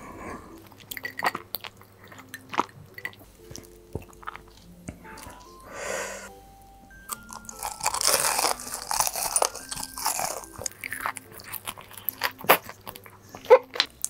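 Crunchy fried cheese balls are bitten and chewed close up, with a series of loud crisp crunches and wet chewing sounds in uneven bursts over quiet background.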